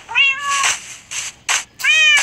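A Minecraft cat meows three or four times in quick succession, with short, clear, rising-and-falling calls and brief gaps between them. There is no talk.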